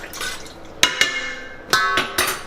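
Chopped plain bacon stirred in a cooking pot, a few sharp metallic scrapes and clanks of a spoon against the pot in separate bursts, fairly close with quiet gaps between.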